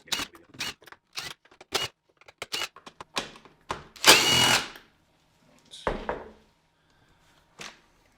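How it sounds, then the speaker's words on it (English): Stainless steel machine thread screws are taken off the top cover of an Ambrogio 4.0 Elite robot mower, making sharp close clicks in quick runs, one longer buzzing whir from a driver, then a few more isolated taps. "we've got another 10 stainless steel machine thread screws. So I'll just remove those now"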